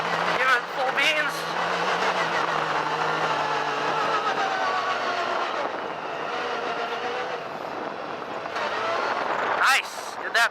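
Yamaha YXZ1000R SS side-by-side engine held in second gear at full throttle off-road, a loud sustained droning rev with shifting pitch, alongside people talking.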